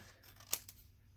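Scissors cut through card stock in a single sharp snip, a brief crisp crunch close by in an otherwise quiet room.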